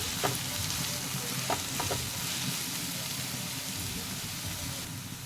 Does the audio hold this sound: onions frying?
yes